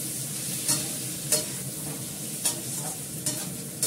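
Fried potatoes stirred in hot oil in a pan before meat is added, sizzling steadily up close with a sharp scrape of the spatula roughly every second.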